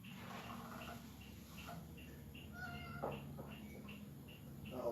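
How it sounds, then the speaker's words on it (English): A cat meows faintly a few times in the background over a steady low hum, with short, thin cries spaced irregularly. "cat meow"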